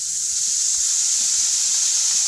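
Khoya melting in ghee in a hot kadhai gives a steady, continuous sizzling hiss, close and even throughout, with no voices.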